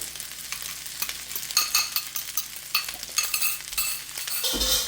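Eggs hit a hot pan and are stirred into jerk salmon fried rice, a steady crackling sizzle with scraping utensil strokes and clinks throughout, close and fairly loud with no talking.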